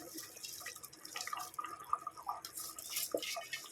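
Soaked rice being drained, with water dripping and trickling off the grains in a kitchen, steady close patter of drops with light clinks of a vessel throughout.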